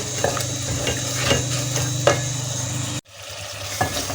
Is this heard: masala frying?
yes